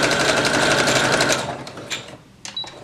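A sewing machine stitches a button onto an heirloom dress, running in a loud steady whir for about a second and a half, then stopping and giving way to a few faint clicks and handling sounds.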